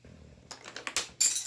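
Colored pencils dropping and clattering onto a hard surface in a quick burst of several bright wooden clicks and rattles, close and fairly loud, ending in a final cluster of clatter.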